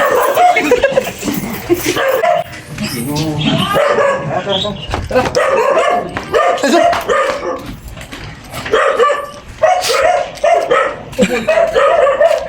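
Dogs bark and yip repeatedly in bursts, close and loud, with people talking over much of it.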